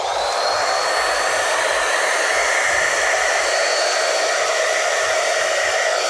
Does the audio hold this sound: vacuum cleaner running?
yes